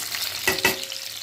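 Boiled eggs frying in hot oil, a brief steady sizzle with two quick stirring or turning clatters near the middle.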